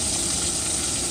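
Bacon and a biscuit frying together in a pan give off a steady, dense, close sizzle that holds at an even level without pause.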